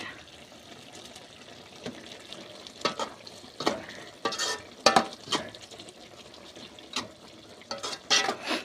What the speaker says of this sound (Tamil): அப்படியே கிளறி விட்டுக்குங்கப்பா